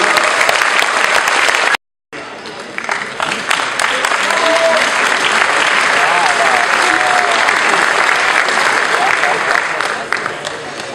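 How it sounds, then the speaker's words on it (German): Audience applause at a woodturning meet's award ceremony in Seeg, briefly cut off by a short silence, then resuming as steady, full clapping that continues to the end. "Applaus."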